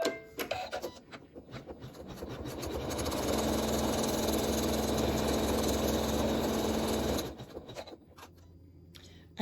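An embroidery machine stitches black applique fabric down onto a pincushion project with a steady, loud mechanical whir and rapid needle chatter for several seconds, sandwiched between softer handling noises.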